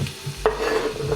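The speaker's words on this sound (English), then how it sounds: "We're going to stir this up." A spoon scrapes and stirs through ground meat in a pot for vegan chili, a short close burst of stirring with a light sizzle underneath and no talking.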